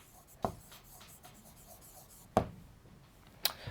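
Chalk or marker tapping and scraping on a board while a physics lesson's equations are written, three sharp strokes spaced apart over faint background.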